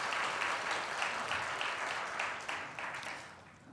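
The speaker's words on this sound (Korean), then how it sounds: "간증해 주신 두 분께 다시 한번 박수 드리겠습니다." A church congregation at a Friday worship service gives a round of applause, dense, steady clapping filling the room and slowly fading toward the end, with no talking over it.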